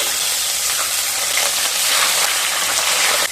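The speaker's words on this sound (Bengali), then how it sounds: "তেলটা গরম হয়ে গেছে, এবার মাছগুলো ভেজে নেব।" Pieces of rohu fish frying in hot mustard oil give off a steady, loud, dense sizzle with no breaks, like a close, continuous hiss of spattering oil.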